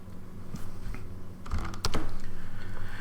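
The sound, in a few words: typing commands on a computer keyboard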